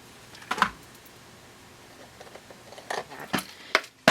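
Scissors trim craft material in short, quiet snips, a few crisp cuts spaced irregularly over a faint background.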